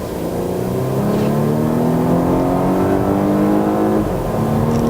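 Volvo S60 T5 Inscription turbo petrol engine accelerating on a test drive, heard from inside the cabin as a smooth, rising drone that climbs steadily in pitch through the gears, loud and continuous with no voices.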